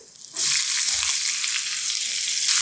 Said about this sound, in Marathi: आता यामध्ये उभा चिरलेला कांदा घालूयात